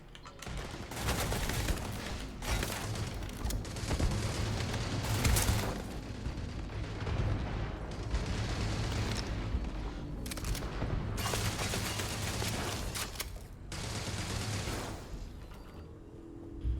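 Turret gunfire in the Starfield video game, a dense, continuous barrage of rapid shots and blasts that stays loud and steady throughout with no pauses.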